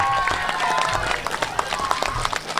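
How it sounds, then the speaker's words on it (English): Crowd at an outdoor Public Works Day event applauding public works staff, a steady wash of clapping with some cheering mixed in, loud and close throughout. "So can I get a big round of applause for the people standing behind me?"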